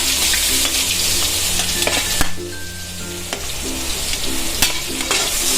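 Onion sizzling in about two spoons of hot oil with mustard seeds, cumin and asafoetida, a steady close frying hiss with a few soft clicks and stirring taps, no voices.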